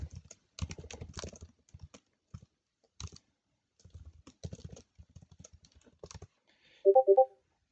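Close, quiet typing on a computer keyboard in irregular bursts of clicks with short pauses between them, ending in a short run of key presses.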